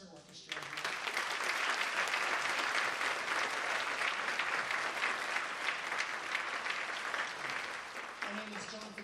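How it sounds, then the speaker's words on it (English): A high school spring concert audience applauds the concert orchestra, a broad, steady wash of clapping that swells in quickly and holds for several seconds before thinning slightly at the end. "another round of applause for the concert orchestra"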